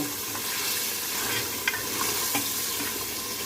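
Meat stir-fried in ghee in a handi, with a steady, close sizzle under repeated spoon scrapes and a few sharper clicks. There is no speech.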